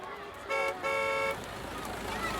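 A car horn gives two honks close by, a short toot followed by a longer blast, over steady outdoor background noise.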